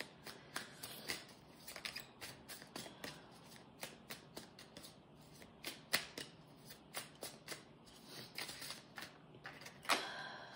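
Tarot cards being shuffled and drawn from a deck at close range, a rapid run of crisp flicks, slides and snaps in an uneven rhythm, with no speech.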